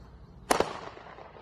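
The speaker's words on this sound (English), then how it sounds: "Those are the mini artilleries." Mini artillery fireworks go off with a single loud, sharp bang and a quick second pop, followed by a short crackling tail in an outdoor setting.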